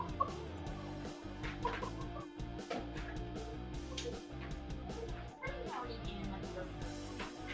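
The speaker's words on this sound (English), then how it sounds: "the wife and her chickens" Domestic chickens cluck in a continuous mix of short, overlapping calls under a steady background hum, fairly near and moderately loud.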